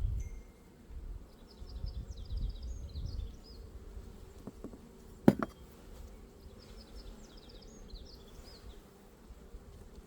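Honey bees buzz faintly at an opened hive during a spring inspection, with soft, steady low hum and scattered high whines and a sharp knock midway; no one speaks.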